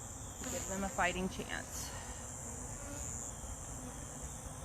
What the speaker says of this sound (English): So there's not a lot of bees in here.